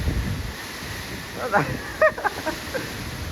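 Wind gusts roar against the microphone outdoors near metal roof sheets, a steady rushing noise throughout, while voices talk over it and a few brief knocks break through.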